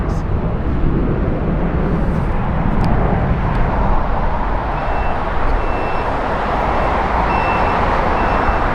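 An Air Canada Airbus A330 takes off from LAX, its dense, broad engine roar holding steady and loud throughout, with a faint voice speaking over it.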